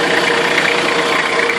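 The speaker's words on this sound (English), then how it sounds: "sounds like a normal TD42 diesel engine" A Nissan GU Patrol with a TD42 diesel engine idling close by, a steady, loud, even rumble with no talking.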